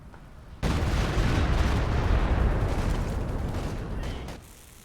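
Artillery barrage in the strategy video game Company of Heroes 2, a dense, sustained roar of overlapping blasts and rumble that kicks in abruptly, holds loud for several seconds, then tapers off.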